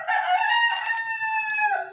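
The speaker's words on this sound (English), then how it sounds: "I've got our new rooster here, so he's making a lot of noise this morning" A rooster crows once, loud and close, in a single drawn-out cock-a-doodle-doo with a bright, strained tone, on its own with no talk.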